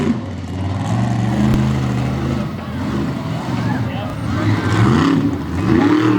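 A monster truck engine revs steadily as the truck spins a donut at a freestyle show in Lima, Ohio, a loud sustained roar with pitch swells, under continuous announcer commentary.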